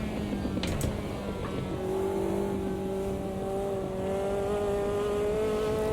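A Caterham race car in the Automobilista 2 sim, accelerating hard out of a corner: a loud, close engine note climbs steadily in pitch with a faint tire scrub beneath it, and no one speaks.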